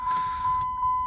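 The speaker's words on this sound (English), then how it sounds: "Got our door chime." Door-open chime in a Ram pickup truck with the key on, a steady electronic tone sounding continuously with faint cab noise underneath.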